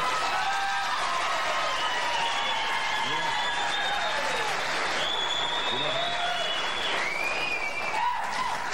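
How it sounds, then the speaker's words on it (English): Sustained applause from a late-night television studio audience, even and continuous throughout, with faint tonal sounds layered above the clapping. "I just turned on the applause sign"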